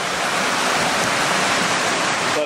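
Swift stream water rushes down Gold Mine Run, a loud, continuous broadband roar of tumbling flow heard close and alone, with no voices.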